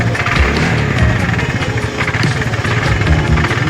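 TVS scooter engine idling with a loose kick-start lever knocking, a close, steady rumbling idle with a dense, uneven rattling texture throughout, no talk over it.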